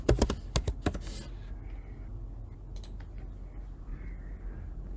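Fingers type a password on a computer keyboard to connect a Mac to a Debian machine over remote desktop. A quick burst of close, crisp key taps fills the first second, then gives way to a quiet room hum.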